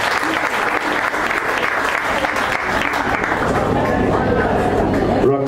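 An audience at an awards gathering applauds steadily, thick overlapping clapping mixed with crowd murmur and babble, staying loud until it tapers near the end.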